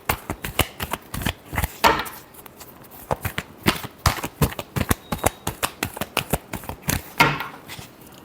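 Tarot cards being shuffled by hand, a rapid run of crisp riffling slaps and flutters in uneven bursts, close and fairly loud, with no talking over them.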